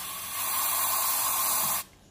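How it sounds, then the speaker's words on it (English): Throttle body cleaner sprayed into a Hyundai Santro's throttle body gives one steady, close hiss for about two seconds before cutting off abruptly. "You have to keep spraying."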